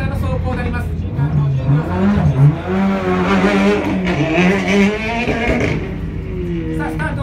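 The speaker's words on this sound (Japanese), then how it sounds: "上原義成選手、アルテックダンドプランサーの走行になります" A rally car runs flat out on a dirt trial course in Japan, its engine revving and climbing through the gears continuously, with tire scrabble on the loose surface and a race commentator's voice heard over the noise.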